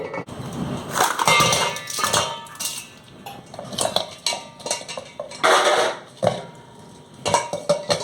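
Ice being dropped into a bowl beneath a pot for chilling cream while making cake, with repeated clattering, knocking and rattling bursts at close range, uneven and loud with short pauses between.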